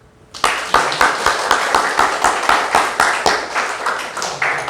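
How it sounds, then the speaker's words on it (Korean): A church congregation claps in unison after a sermon point, loud steady rhythmic hand claps at a brisk even pace, starting abruptly and continuing throughout. "감사하면 우리 박수 한번 칩시다."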